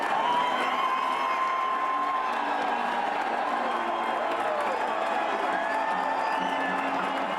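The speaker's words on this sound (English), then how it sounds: "And when he appeared in public to greet the crowd from a balcony, he received a big ovation." Crowd gathered below a balcony giving a big ovation to the president-elect, a steady wash of cheering, clapping and whoops heard from a distance, underlying voices throughout.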